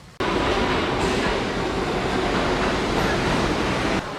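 New York subway train at Grand Central, a loud steady rumble of rolling carriages and rattling wheels heard up close, starting abruptly and holding for several seconds before cutting off.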